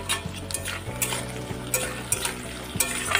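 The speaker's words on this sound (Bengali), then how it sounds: "পেঁয়াজগুলো ভাজা হয়ে গেছে, এর মধ্যে আমি এবার টমেটোগুলো দিয়ে দেবো।" Tomatoes sizzle as they are added to fried onions in a pan while a spoon stirs and clanks against the metal in repeated strokes, close up and without speech.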